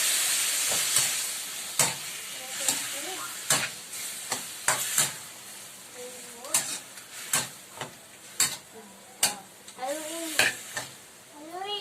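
Chicken pieces sizzle and splatter in a hot pan for chicken caldereta, with a steady hiss broken by sharp, irregular pops and crackles and the occasional scrape of stirring.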